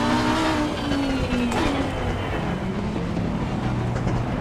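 Lamborghini race car engine in the racing game Assetto Corsa Competizione at Zandvoort, a loud, steady high-revving drone with rising and falling engine tones throughout and a brief gear-change blip midway.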